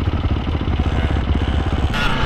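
A Rieju/Yamaha hybrid dirt bike with a Rieju seat and Yamaha plastics, with its engine being kicked or cranked to start, making a steady rough mid-pitched clatter close by with no voices.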